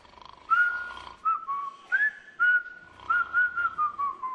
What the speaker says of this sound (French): Faut juste siffler.